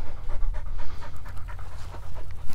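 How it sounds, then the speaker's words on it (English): A hunting dog pants rapidly and steadily up close after a quail hunt, quick rhythmic breaths continuing throughout without any talking. "What a good dog."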